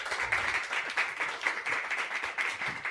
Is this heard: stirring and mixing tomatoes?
no